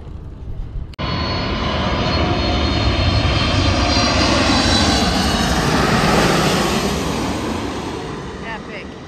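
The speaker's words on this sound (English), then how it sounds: "I'm gonna pause in a minute and I'm gonna get some aircraft footage" At the edge of an airport along a coastal trail, a light rustle gives way to an aircraft engine's sudden, loud, sustained roar close by that slowly eases toward the end.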